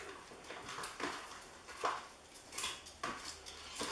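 Pork loin steaks tossed with herbs, salt and pepper in a bowl, producing soft, irregular clinks and scrapes of utensils against the dish, close and quiet, several short bursts in a loose rhythm.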